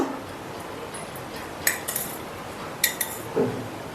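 Soaked sabja seeds spooned into a summer drink, with a few light clinks of a spoon against a glass or bowl, brief and close, over a quiet background without talk.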